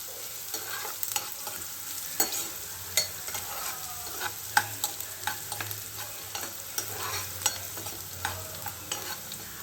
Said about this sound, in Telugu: ఆనియన్స్ కొంచెం వేగాలండి.